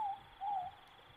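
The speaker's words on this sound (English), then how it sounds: "what you're hearing right now is the sound of moorporks" Morepork, the New Zealand owl, calling in a virtual forest: two clear, mid-pitched hoots, the second longer, faint and distant over quiet ambience.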